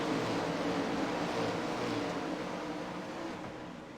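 A pack of 410 winged sprint cars roars off at the start of a dirt track race, a dense continuous engine drone that fades gradually as the field moves away.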